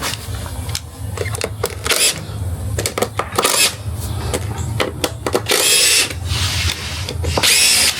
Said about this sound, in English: So could you hand me that drill?